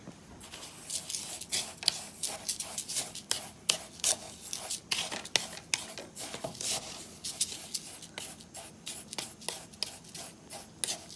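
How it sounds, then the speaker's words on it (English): Eucalyptus oil is stirred into a batch of lavender and eucalyptus bath salts, giving a steady run of gritty scraping and rubbing strokes at close range, with no talking. "I'm going to stir that in."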